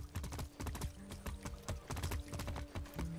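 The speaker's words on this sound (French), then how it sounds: "Oh, y a un cheval, c'est bon." Horse hooves clip-clop in a quick, steady rhythm in Far Cry 6, close and clear, over a faint background tone.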